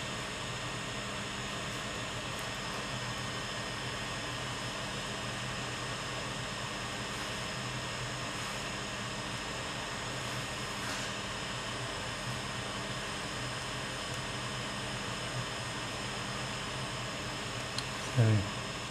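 Heat gun blowing hot air to lift adhesive tape from documents, a steady airy whoosh with a constant fan drone that holds throughout.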